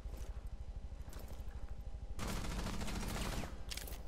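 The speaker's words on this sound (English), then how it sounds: "She's shooting at you." Gunfire in Rainbow Six Siege, heard as a rapid pulsing automatic burst that swells into dense, louder shooting midway and continues to the end, fairly quiet overall with no speech.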